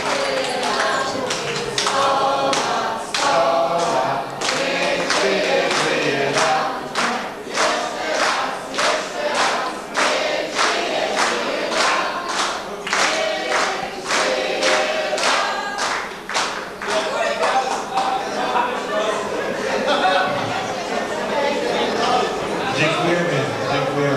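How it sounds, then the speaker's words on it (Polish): A crowd claps steadily at an outdoor CB radio club gathering in Poland in 1994, with dense, sustained applause and occasional cheers filling the room, close and loud, and voices mixed into the clapping. "Brawa dla kolegi Janka."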